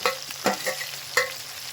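Okra frying in a pan for sambar, stirred with a few distinct scraping strokes over a soft, continuous sizzle, close and moderately quiet.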